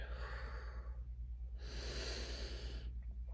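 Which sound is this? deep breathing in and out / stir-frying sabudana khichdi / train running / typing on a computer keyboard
deep breathing in and out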